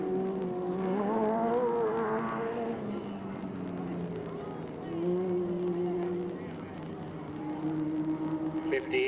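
Race cars roar around the oval at Delta Speedway as one spins out on the backside, engine drones rising and falling with a brief scrub of tires, loud and steady throughout.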